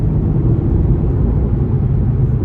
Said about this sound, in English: in addition to that glorious V8,